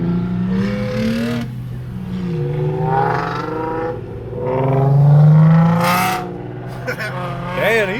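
A car revs repeatedly at a car show, loud rising and falling engine roars close by, with people talking and shouting over it.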